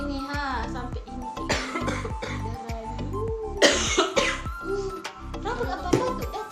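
Repeated coughing during a fake blood-coughing prank, several short coughs mixed in with people talking, including a voice, in a room.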